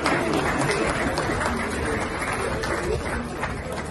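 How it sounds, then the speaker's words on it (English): An audience applauds on stage at a public event, a steady dense wash of clapping filling the whole moment without letup, close and loud, with crowd murmur mixed in. "A round of applause for him"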